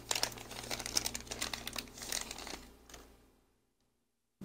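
Plastic packaging from a toy box crinkles and rustles steadily at close range for about three seconds, then the handling stops and the room falls nearly silent.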